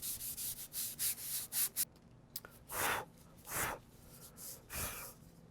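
Sponge sandpaper rubs across a PVC pipe being given a faux wood grain, a run of quick close scrubbing strokes followed by a few slower, separated passes, fairly faint and with no talk.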